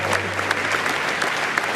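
A crowd applauds D-Day veterans at an anniversary gathering in Normandy, a dense steady wash of clapping with voices mixed in throughout.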